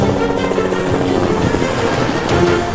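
A helicopter carries passengers toward mountains and valley lake systems, its rotor and engine a loud, constant, close-up roar that fills the whole stretch.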